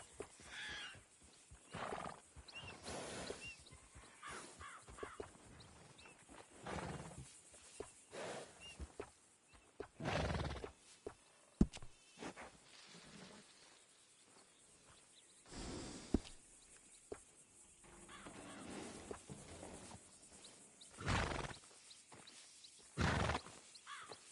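Horse from the Red Dead video game, neighing and snorting at intervals while walking, with soft hoof steps between louder bursts spread across a long, fairly quiet stretch.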